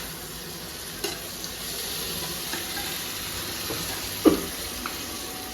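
Crab masala with red chili sauce frying and being stirred in a pan, a steady close sizzle with occasional scraping knocks of the spoon against the vessel.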